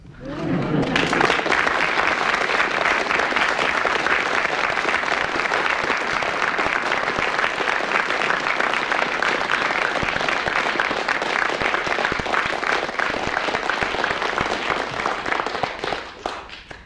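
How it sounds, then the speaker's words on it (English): Sustained loud applause from a large audience, rising quickly and holding steady for several seconds before tapering off at the end. "by your applause, there is an exact draw between Frank Muir and Denis Norden"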